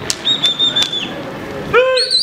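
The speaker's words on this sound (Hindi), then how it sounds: "ये किस तरह से कबूतर उड़ रहे हैं और कितने सारे उड़ रहे हैं" A flock of pigeons bursts into flight from a rooftop loft in Karachi, with close, loud wing flaps in quick clusters. Thin whistling tones ring over them and a sharper rising call comes near the end.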